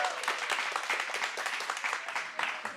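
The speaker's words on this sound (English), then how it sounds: "you gotta clap for like the video" A small live audience at a nutrition class claps on cue, light scattered handclaps at moderate distance, fairly soft and brief, with a hint of voices mixed in.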